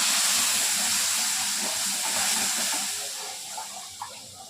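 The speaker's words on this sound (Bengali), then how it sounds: "এইবার মশলাটা আমি ছেড়ে দেবো, মধ্যে ছেড়ে দিলাম।" Spice masala hits hot oil tempered with cumin seeds and bay leaf, giving a loud, close, steady hiss and sizzle that fades slightly toward the end, with a few small pops and no talking.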